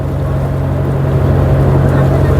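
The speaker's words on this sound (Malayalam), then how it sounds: "സുരക്ഷാ ക്രമീകരണങ്ങളൊക്കെ പൂർത്തിയാക്കി നമ്മുടെ ബോട്ട് മറുകര തേടി പോവുകയാണ്" A motorboat crosses the Neyyar Dam reservoir, its engine a steady low drone close by with wind and water wash behind it.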